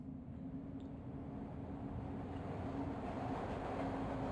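A train rolls steadily in Broken Sword 2, a faint continuous rumble with a low droning hum and no distinct clatter, heard alone.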